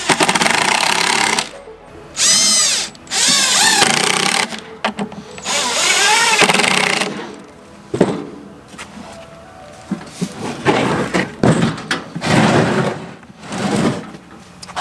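Power drill driving screws into 2x4s on a cedar fence picket planter, loud close whirring bursts with rising and falling pitch as each screw seats, separated by brief pauses and wood knocks.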